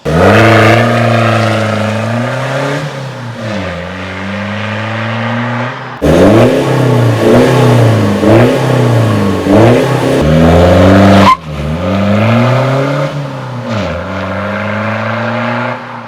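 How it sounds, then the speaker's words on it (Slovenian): A BMW with a stainless steel exhaust, 75 mm pipe and 90 mm tips, revs up hard several times in close, loud, rising and falling sweeps with no talking. "Zdaj želela sva dobiti malo bolj globok zvok avtomobila."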